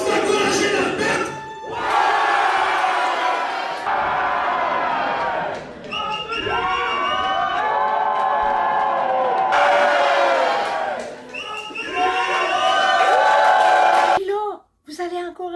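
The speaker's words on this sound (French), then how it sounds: "la foule « Ouais! » Puis ils crient, puis applaudissent." A wrestling show crowd roars, whoops and cheers in loud sustained bursts with chanting voices, broken by brief pauses and a sharp drop near the end.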